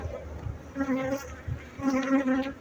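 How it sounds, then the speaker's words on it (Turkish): Honey bees hum and drone around beehives full of honey at harvest time, buzzing up close in two rising passes that sound like insects flying past the microphone, with no speech. "Arılarımız maşallah işlerini bitirmişler."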